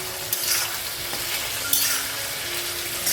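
Chayote squash and potato being sautéed with spices, a dense continuous sizzle from the pan with a few sharper utensil stirs cutting through, close and fairly loud throughout.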